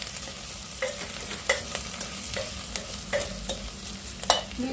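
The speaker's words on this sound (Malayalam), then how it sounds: "വറുത്ത സേമിയ ഇടുക, മിക്സ് ചെയ്യുക." Roasted vermicelli is stirred into vegetables in a hot cooker pan, a spoon scraping in a regular rhythm of short strokes over a continuous gentle sizzle, close and fairly loud.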